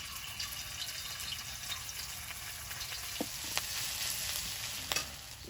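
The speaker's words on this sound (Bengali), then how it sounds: "তেলের মধ্যে দিয়ে দেব পুরানো আদা" Old ginger frying in oil in a wok gives a soft, steady sizzle, faint and continuous, with a few sharp clicks of utensils against the pan and no talk.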